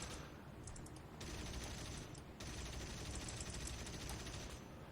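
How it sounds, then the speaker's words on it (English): Aircraft cannon firing in the War Thunder air combat game, long rapid bursts of dense automatic fire over engine roar, with a brief pause between bursts. "God, this cannon shakes the plane."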